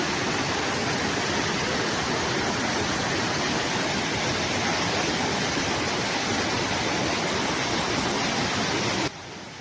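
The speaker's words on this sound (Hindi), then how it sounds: "और ये झरना पड़ता है नौराधार से पहले ही" A waterfall before Nauradhar on the Churdhar temple trek roars in a dense, constant, close-up wash of falling water that stays loud and unbroken until it drops off abruptly near the end.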